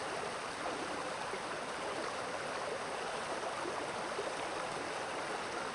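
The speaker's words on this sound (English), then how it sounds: "Rapid flowing water." Rapid water rushes steadily in the game Vintage Story, a dense, even wash with no breaks that holds at a soft level the whole time.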